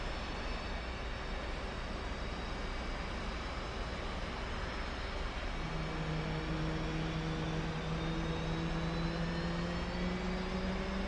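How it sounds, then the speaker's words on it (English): A left jet engine spools up in the DCS flight simulator, a steady loud roar with a whine that climbs gradually in pitch partway through, heard alone without talk. "Left engine start."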